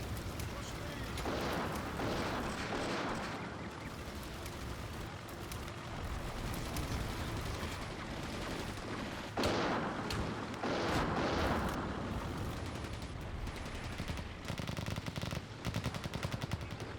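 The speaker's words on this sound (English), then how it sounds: "That's gotta be an AT rifle." Anti-tank rifle fire strikes a tank in the Combat Mission WWII game: bursts of gunfire and impacts over a constant rumbling battle bed, with someone speaking over parts of it.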